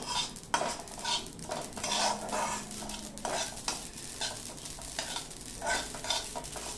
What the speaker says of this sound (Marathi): आता 1 चमचाभर मी खसखस घेतलेली आहे, ही खसखस भाजून घ्यायची